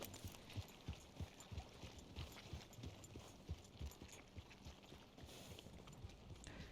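Horses walk with steady clip-clop hooves in a video game, the soft rhythmic steps continuing throughout under a faint background bed.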